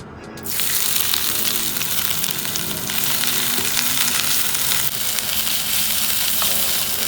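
Ginger garlic paste sizzles loudly and steadily in hot oil in a pan, a dense continuous frying hiss that starts abruptly and holds for several seconds, close and alone.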